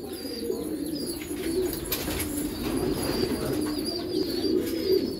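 Black Gujarati pigeons at a Hyderabad loft coo softly and repeatedly, with a few brief wing flaps and faint chirps against a low background hum.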